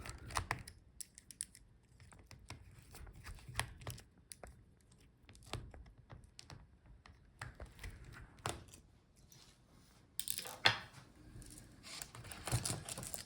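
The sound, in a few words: removing screws from Dell XPS 13 laptop video cable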